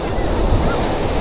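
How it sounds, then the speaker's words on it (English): Ocean waves wash onto a beach during an evening of kite flying, a loud, close rush of surf with some wind buffeting the microphone. "watching the waves on the beach, hoping for them not to knock him over"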